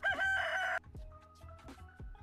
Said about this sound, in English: Marnie's rooster